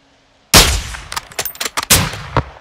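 A loud sniper rifle shot in Call of Duty Modern Warfare II breaks out of near silence as one sharp blast, followed by ringing echoes and a few smaller metallic clanks and thuds.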